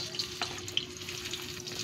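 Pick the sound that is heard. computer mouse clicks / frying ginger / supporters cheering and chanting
frying ginger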